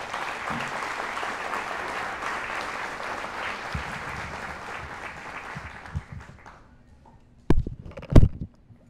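An audience at a Spiritist centre talk applauds steadily for about six seconds, a dense even clatter of hands that thins and fades, followed by a few isolated thumps and knocks.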